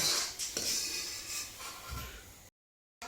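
A cooked mixture is scraped from a pan into a cooking pot with a utensil, making close metallic clinks and scraping, followed by a brief silence and then a short resumption.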